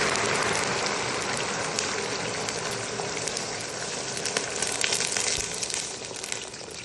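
Water poured into a hot pan of dates and dill gives a loud, continuous hiss and sizzle with a bubbling crackle that holds steady, with no talk.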